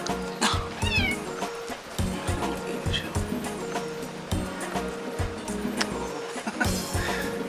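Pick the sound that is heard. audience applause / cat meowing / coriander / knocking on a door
cat meowing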